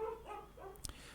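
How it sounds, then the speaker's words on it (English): A dog gives a short, faint bark or yip somewhere in the background behind a radio operator's recording. It is a single brief burst over low hum. "I apologize for my dog barking in the background"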